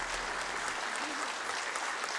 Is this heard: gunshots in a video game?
no